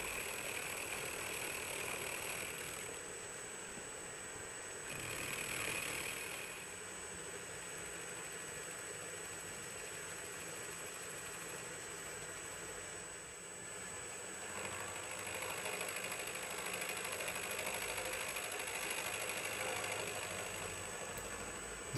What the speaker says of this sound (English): Machining this face extends the range of sizes that the clamp can be used for.